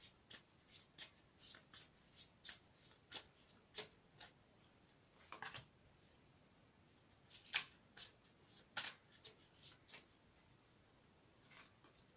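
Tarot cards are shuffled in quick, crisp bursts, a run of riffling slaps and flicks with short pauses between them, close and otherwise quiet.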